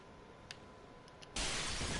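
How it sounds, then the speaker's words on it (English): Clay pots shattering in the Dark Souls 3 video game: a brief faint tick, then from about 1.4 seconds a sudden loud burst of breaking and shattering that carries on to the end. "Smashing your pots."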